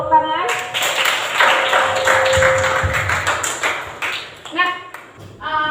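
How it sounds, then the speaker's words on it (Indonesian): A school class claps hands together in the classroom, a brief busy patch of clapping amid a teacher's talk and children's voices, with light tapping and thumps around it. "luar biasa, tepuk tangan."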